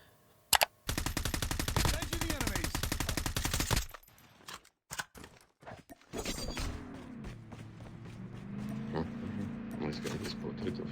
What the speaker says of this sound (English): I told Narco there is a pump class down there, and he started shooting at him.